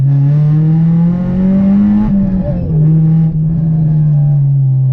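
Straight-piped Honda Civic EP3 Type R, stripped out, with its engine droning loud and close, pitch rising and dipping through a downshift, a steady raw exhaust note filling the whole stretch.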